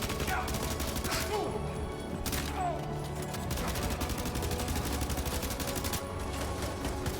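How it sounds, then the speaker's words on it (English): Gunfire in Death Stranding 2, rapid steady shooting that carries on through the whole stretch, fairly quiet in the mix, with a voice talking over it at times. "Like how we're just peppering ourselves, like each other with bullets"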